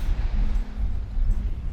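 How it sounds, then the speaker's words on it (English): A low, steady rumble of sea waves on the Algarve coast of Portugal washes through, heavy in the bass and continuous, with no voices. "And that sound is the sea."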